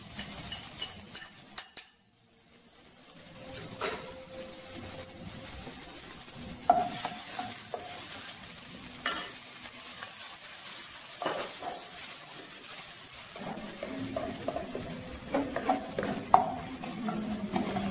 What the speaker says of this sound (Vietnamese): cho vào đây khoảng 2 muỗng canh dầu ăn nữa và phi tỏi và hành cho thơm lên